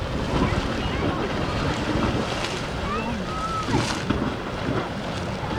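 Grotto Geyser in Yellowstone erupts with a continuous rushing, sloshing water roar, with gusty wind buffeting nearby and faint voices in the background.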